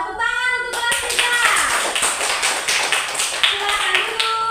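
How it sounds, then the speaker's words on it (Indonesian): A classroom of children claps hands in a quick, loud, rhythmic burst, close and continuous for several seconds, after a brief moment of a voice. "Tepuk tangan untuk kelas kita."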